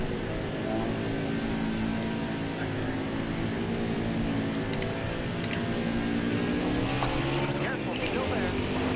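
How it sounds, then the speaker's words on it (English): A stock car engine in NASCAR Heat 4 drones steadily through the whole stretch at Dover, holding a thick, buzzy harmonic pitch that swells slightly toward the end as the car revs, with faint voices underneath. "I revved my engine"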